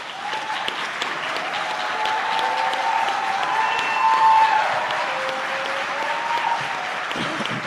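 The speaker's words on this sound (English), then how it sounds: "Would you give them a round of applause?" A crowd claps in a round of applause at a police chief swearing-in ceremony for Chief Elaine Bryant and assistant chief Potts, steady sustained clapping with a faint tonal hum and murmur beneath.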